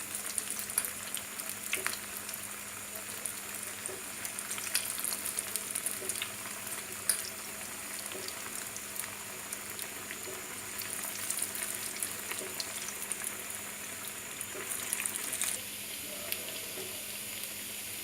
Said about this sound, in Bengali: এখন এগুলোকে গোল্ডেন ব্রাউন করে ভেজে নেব